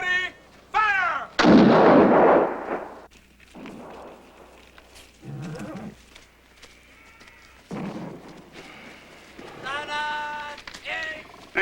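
Cannon fire from a battery of guns at an eighteenth-century military encounter, several loud booming blasts spaced a few seconds apart, mixed with shouted commands, crowd noise and other voices.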